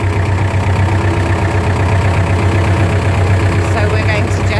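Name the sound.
tractor engine running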